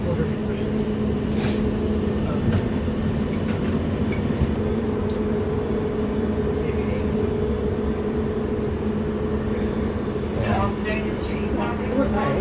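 An old, well-worn London Underground Piccadilly line train bound for Arnos Grove makes a steady, loud interior rumble and hum that runs unbroken throughout, with faint rattles on top.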